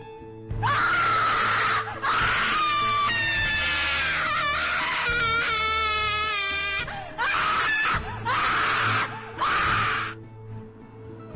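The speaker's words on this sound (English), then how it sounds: "The mayor screamed a scream that seemed to echo all throughout Adventure Bay." A woman's long, wailing screams ring out in several drawn-out bursts, loud and close, with brief pauses between them and a reverberant tail.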